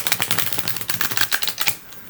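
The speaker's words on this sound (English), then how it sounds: "that is a nice deck for me to riffle shuffle" A Medieval Feathers tarot deck is riffle shuffled, giving a quick crackling flutter of cards, close and fairly loud, ending with a brief softer settle.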